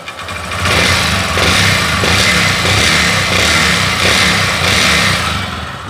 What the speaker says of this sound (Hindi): अब मैं रेस दूंगा तो उसमें आवाज़ आएगी क्रैंक की।